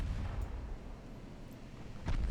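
Shell hits landing on battleships during a naval battle in Ultimate Admiral: Dreadnoughts, a low rumbling boom that swells at the start and again near the end, with a sharper impact crack shortly after the two-second mark.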